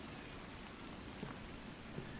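Steady rain falls in a survival video game, a constant even patter with a few slightly louder drops, no talk over it.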